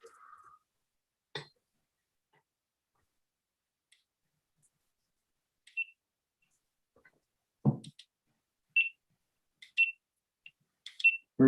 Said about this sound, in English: Everybody wants to hear my beeping.